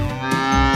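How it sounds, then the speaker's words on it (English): A cow moos once, a short, close, clear bovine call with a low, rich harmonic tone that swells slightly toward the end. "Do you know the sound of a cow?"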